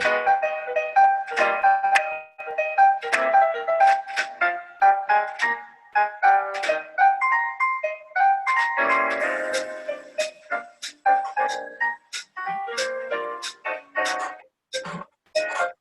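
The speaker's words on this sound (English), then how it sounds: "now I'm gonna play a video, which is a jazz trio that we talked about" Jazz trio playing: piano melody and chords over walking bass and light drum hits, steady swing, moderately loud and clear, no talking.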